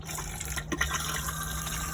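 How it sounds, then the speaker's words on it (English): Pink flush fluid pumps into a caravan toilet cassette at the press of a button, a steady close gushing, filling rush with a low hum underneath, running continuously without talk. "your actual flush fluid itself is from this button"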